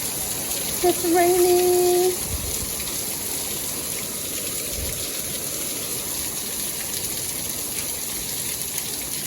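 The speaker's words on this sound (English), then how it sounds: "It's raining." Constant heavy rush of rain pouring down, broad and unbroken, with a brief tonal beep near the start.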